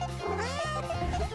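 A cat meows in a short series of clear, close tonal calls, two distinct meows followed by a rougher trailing cry, with no speech over it.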